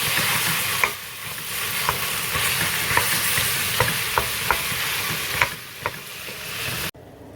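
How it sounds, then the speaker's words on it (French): Ground beef for chili con carne fries in a pan with a steady loud sizzle, broken by a series of sharp utensil scrapes and taps as the meat is stirred and broken up, ending abruptly. "à présent que notre viande est en train de bien cuire"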